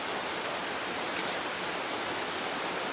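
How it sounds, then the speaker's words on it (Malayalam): Light rain falls steadily in a soft, even hiss that fills the whole stretch, with no distinct drops standing out and no voices. "ഇതാ മഴേൻ്റെ ഒക്കെ ഇച്ചിരി തുള്ളി കാണുന്നുണ്ടാവും"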